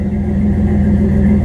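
A car engine drones loud and close through a new bed exit exhaust, a steady throaty rumble held at high revs with no break.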